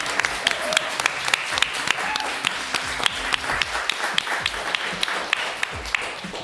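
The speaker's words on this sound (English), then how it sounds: "Can we have a round of applause, please, for everyone who's joining us tonight?" A live audience at a pub event gives a round of applause: a continuous bed of hand claps with sharp individual claps standing out, steady and fairly loud for the whole stretch, with no voices over it.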